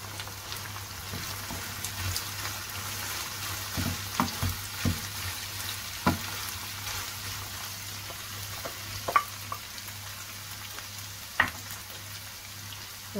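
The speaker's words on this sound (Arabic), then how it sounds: "غادي نخليه يتشحر شويه" Onions and spices sautéing in a pan while cooking batbout filling, a steady low sizzle with scattered crackles and soft stirring taps, close and fairly quiet, no talking.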